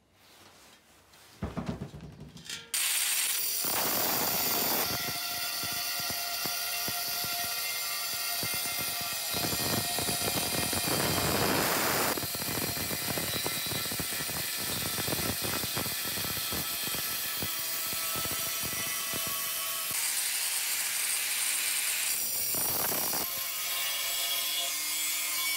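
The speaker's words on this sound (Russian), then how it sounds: "Пилить будем, резать будем диском граф по металлу." A GRAFF diamond disc on an angle grinder cuts through a steel gas cylinder with a loud, steady, grinding screech. It runs almost without a break after a brief start-up, and no voices are heard.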